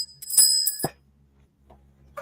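A small hand bell rings twice in quick bright strikes close by, then its tone cuts off into near silence, with a faint ring returning at the very end.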